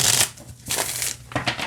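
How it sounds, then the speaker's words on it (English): A Stranger Things tarot deck from Insight Editions being shuffled, with a few quick bursts of riffling card noise close to the microphone, separated by brief pauses, and no talking. "Shuffles just fine, just like all of the other Insight Edition decks."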